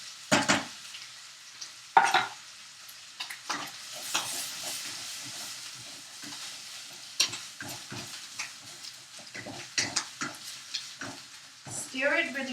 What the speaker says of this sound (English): we put the can of corn in the butter